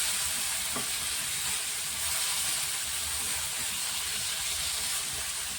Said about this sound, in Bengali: এটা নাড়তে হবে ভালো করে